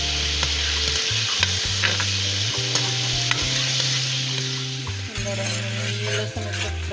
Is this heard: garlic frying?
yes